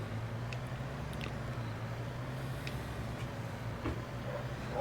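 A truck drives in Farming Simulator 22, a steady low engine drone and rolling rumble that stays even throughout, with a few faint clicks over it.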